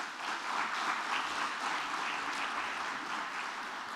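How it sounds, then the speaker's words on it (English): Sustained round of applause from an audience at a diplomat's farewell ceremony, dense steady clapping holding at an even level throughout without a break. "Come on, larger round of applause"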